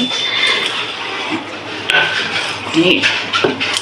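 A rolling pin presses and rolls across the veins of colocasia leaves for aloo vadi, making close wooden rubbing and soft knocks on a board, with someone talking over it.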